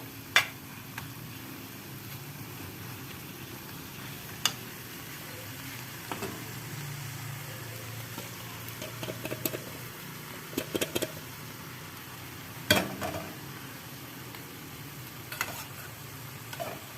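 Food frying in a pan at home, a low steady sizzle broken by scattered clinks and scrapes of stirring, with no talk over it.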